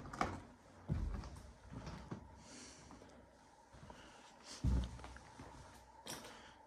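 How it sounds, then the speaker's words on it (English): A heavy button-operated door in an old Soviet bunker and factory complex in Riga shuts with deep, echoing thuds, two strong low impacts separated by a few seconds, with softer clanks and shuffling in a reverberant concrete room. "This is the door which closed."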